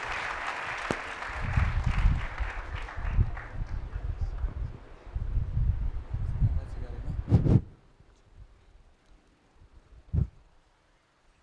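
An audience applauds to welcome Dr. Prashant Yadav to a motivational talk for NEET students, with dense clapping in waves for about seven seconds before fading to a quiet room with a few stray sounds.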